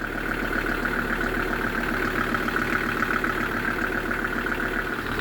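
A boat engine runs steadily in gear, a continuous droning hum with a constant low rumble and a persistent mid-range tone, moderately loud and unchanging, with no voices.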